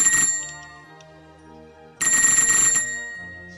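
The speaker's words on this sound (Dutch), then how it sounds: "Telefoon?" A telephone rings in two loud electronic bursts with a pause between them, each one a fast, trilling bell tone that comes through clearly and close.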